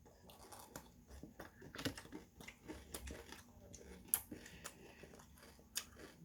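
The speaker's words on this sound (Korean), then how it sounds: "한번 여기 안에다 우유를 찍어서 먹어보도록 할게요" Crunchy bites and chewing of GS25 Dubai chocolate dipped in milk, irregular crisp crunches and soft mouth sounds close to the mic, fairly quiet, no talking.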